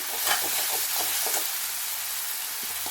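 Ginger garlic paste and Kashmiri chilli sizzle as they are fried and stirred in a pan, a steady close hiss with faint scraping stirs underneath.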